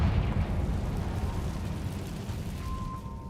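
A Confringo blasting spell detonating in Hogwarts Legacy, a sustained dense rumbling burst that stays loud throughout and slowly tails off, with a faint thin tone rising near the end.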